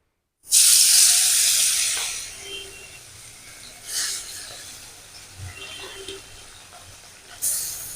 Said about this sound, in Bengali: তেল গরম হয়ে গেছে দিয়ে দেবো পাশে মাছগুলো